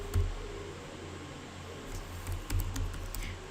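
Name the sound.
typing code on a computer keyboard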